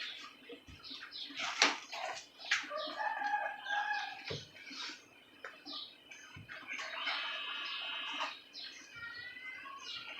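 Chickens and roosters at a rural Thai home, clucking and calling around mid-day feeding, with a rooster crowing over busy, overlapping bird chatter at moderate distance and no talk.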